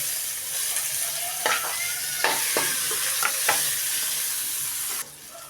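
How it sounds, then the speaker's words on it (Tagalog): Garlic and onion sautéing in hot oil, a constant close sizzle with several sharp scraping stirs of a utensil in the pan, cutting off abruptly near the end; nobody talks. "Habang mainit tayong mantika, ganun ako magigisa."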